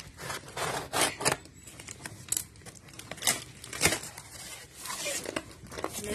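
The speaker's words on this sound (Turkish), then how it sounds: "Şimdi ben kutuyu açacağım." Someone opens a cardboard gift box with scratchy cutting, tearing and rubbing sounds that come in uneven bursts, close and fairly quiet.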